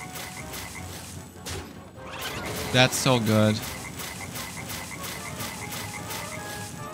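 Deep frog croaks from a Hearthstone Battlegrounds match, a short burst of loud, rattling croaks in quick succession over game music, with a voice speaking briefly.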